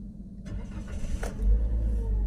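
A Daihatsu Sigra automatic car engine cranks and fires up, a short starter whirr followed by the engine catching and settling into a steady low idle, close by.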